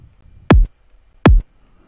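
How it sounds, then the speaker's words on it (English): Two punchy kick drum hits from a simple, limited sample in a moombahcore edit, evenly spaced about three-quarters of a second apart, each a loud low thump with a sharp attack and no other sound between them. "Relatively simple kick sound."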